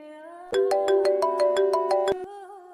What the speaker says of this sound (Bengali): আমার ফোনটা ধরো প্লিজ